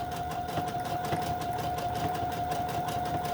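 A sewing machine runs steadily, stitching fabric and lace pieces for a snippet roll, with a continuous mechanical hum and a sustained tone throughout, moderately loud and without talk.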